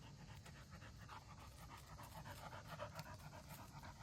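A dog pants steadily on a hike, quick rhythmic breaths close by and fairly faint under outdoor background noise, with no talking.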